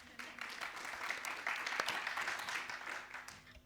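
A conference audience at a UK climate resilience event gives a round of applause: steady, moderately loud clapping that holds throughout.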